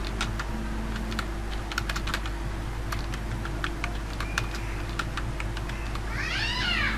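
Rapid clicking of computer keyboard keys as a name is typed in capital letters, steady and close against a constant electrical hum, with a cat meowing briefly near the end.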